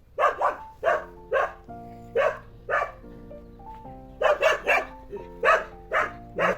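A dog barks in repeated bursts, pairs and triplets of sharp yaps with short pauses, close and fairly loud, with a steady tonal hum underneath.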